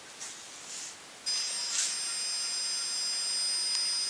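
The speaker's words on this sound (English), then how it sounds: "So here's the Z-axis moving down." A router on the Z-axis of a homemade CNC surfboard mill, bolted to a brass plate on linear ball bearings, spins up into a loud, steady high-pitched whine after a brief quieter mechanical hum.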